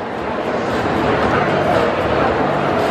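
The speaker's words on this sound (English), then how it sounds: "You can see Alistair's changed dogs." Dogs bark at a Crufts 2015 afternoon training display by a dog training club from Bodmin, their yips mixed into dense arena crowd noise while people talk nearby.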